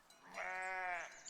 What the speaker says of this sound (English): So we have some sheep.